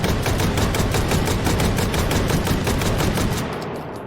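A fully automatic shotgun fires in the VR game Hot Dogs, Horseshoes, and Hand Grenades, a loud, close, rapid string of about twenty evenly spaced blasts that stops abruptly and leaves a short fading echo.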